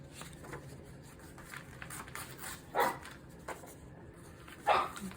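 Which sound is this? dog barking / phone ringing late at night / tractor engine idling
dog barking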